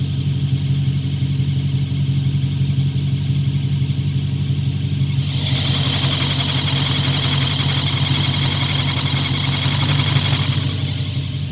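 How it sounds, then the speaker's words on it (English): Dodge Charger Pursuit engine idling steadily with a loud, high-pitched belt squeal that starts partway through, holds strong for several seconds near the engine, then fades back to the plain idle. "you can hear the squealing of my belt"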